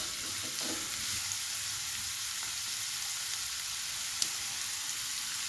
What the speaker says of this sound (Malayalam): സവാള ചെറുതായിട്ട് കനം കുറച്ചരിഞ്ഞത് ഇട്ട് വഴറ്റാം. ഇതിൻ്റെ കൂടെ 2 പച്ചമുളകും കൂടെ ഇട്ട് കൊടുക്കാം.